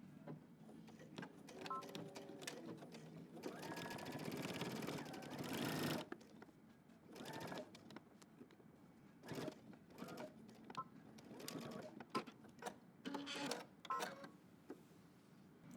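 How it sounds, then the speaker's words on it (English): A sewing machine stitches down a denim jacket pocket in short bursts of rapid mechanical whirring, separated by brief pauses and quieter handling noises, close by and fairly soft. "we're going to stitch this down in between dots"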